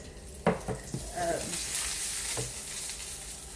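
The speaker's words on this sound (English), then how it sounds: "my daughter's adding some oil to the pan, kind of help sear those" Eggplant sears in oil in a pan, with a soft, fairly faint sizzle and a few sharp clicks and knocks near the start. A voice briefly murmurs in the background.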